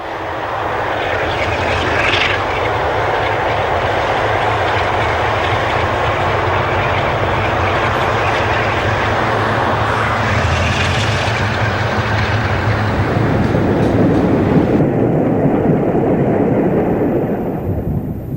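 Class 45 diesel locomotive 45058 hauling a mixed train at Normanton on Soar in February 1982, its engine a loud, sustained drone with rumbling wheels that shifts in tone near the end.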